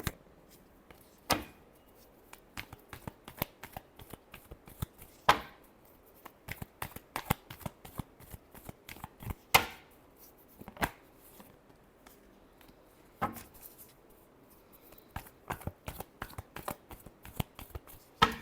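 Tarot cards shuffled by hand: repeated bursts of quick riffling and slapping taps, close and clear, in uneven rhythmic runs with short pauses between shuffles.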